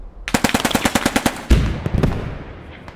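Video game gunfire with a rapid burst of about a dozen evenly spaced automatic shots, loud and close, then a heavier blast and scattered trailing shots.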